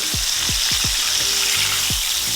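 A flour-coated ribeye steak fries in a pan, producing a loud, dense, unbroken sizzle up close, with a few low thuds and bumps underneath.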